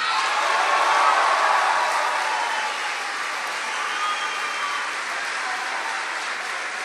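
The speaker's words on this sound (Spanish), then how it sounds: "Quiero un fuerte aplauso con ustedes" Broad, sustained applause and crowd noise from an audience at a live rock concert in 2016, loud at first and then easing slightly to a steady roar.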